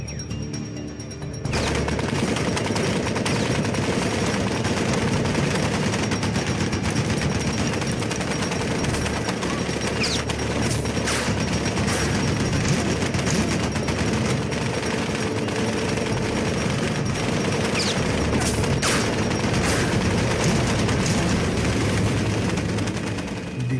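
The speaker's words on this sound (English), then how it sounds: "Jim's men decided to attack the lone sniper with a heavy machine gun" Heavy machine gun fire in a WWII battle after the Normandy breakout, a dense, continuous roar of loud rapid bursts and crackling shots sustained for over twenty seconds with no voices.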